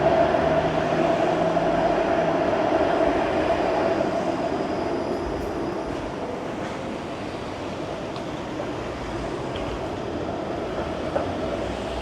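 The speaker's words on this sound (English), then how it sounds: "There's also a streetcar line, as you can see." A streetcar rolls along a Toronto street in Little Italy with a steady rumble and wheel hum. It is loud at first, then eases to a continuous lower roar with faint street noise.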